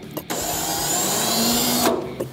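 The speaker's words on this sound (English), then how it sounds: "Key to using the spot weld cutter is you gotta drill a little pilot hole first." An electric drill with a 1/8 inch bit bores a small pilot hole into car body metal in a garage shop, a steady loud whine running for about two seconds before stopping abruptly.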